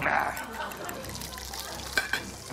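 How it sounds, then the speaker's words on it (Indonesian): Shallots sizzle and crackle in a hot pan during a cooking contest, a steady close hiss with stirring and a couple of sharper pops near the end. "Bikin bawang goreng."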